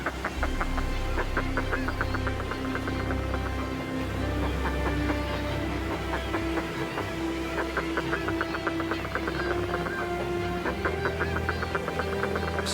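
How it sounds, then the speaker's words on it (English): Seabirds call along a cliff in the Scottish Highlands in winter, a stiff breeze blowing; their rapid, repeated harsh cries overlap steadily throughout over a constant roar of wind. "They shout their excitement to other birds along the cliff."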